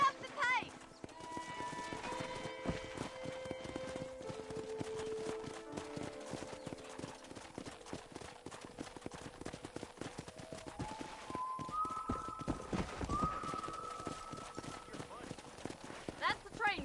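Horse hooves clip-clopping at a steady trotting rhythm in Red Dead Redemption, close and continuous, with game music tones and occasional voices talking over the hoofbeats.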